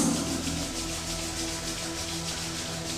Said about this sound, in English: Very slowly, rub your palms